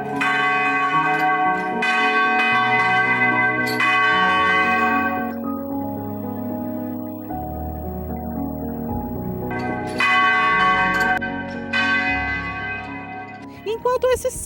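The Sino dos Passos, a church bell weighing over 500 kilos, rings in repeated loud strikes with long ringing decays, a quieter stretch in the middle before strong strokes resume.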